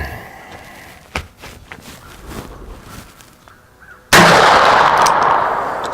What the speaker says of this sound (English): Let me shoot the other 3.